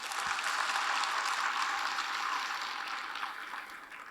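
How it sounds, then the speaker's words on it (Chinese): An audience applauds the executive director at a 2019 regional leaders' training meeting in Hong Kong, a steady crowd clapping that holds loud throughout and tapers slightly near the end, with no voices. "再一次我们给我们的执行总监老板一个热烈的掌声"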